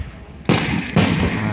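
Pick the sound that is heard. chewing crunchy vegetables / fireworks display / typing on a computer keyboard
fireworks display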